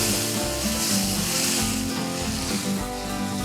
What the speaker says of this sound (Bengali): প্রায় 2 টেবিল স্পুন ময়দা দিয়ে একটু ভাজা ভাজা করে এর মধ্যে আমি ঢেলে দেব পানি